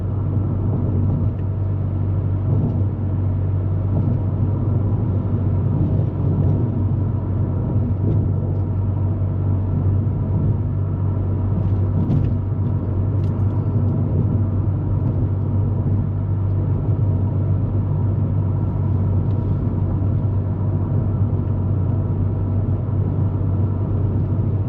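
A Honda Civic drives along a rough, unpaved road in a steady, loud low rumble of engine and tires that continues unbroken for about twenty-five seconds, with no voices heard.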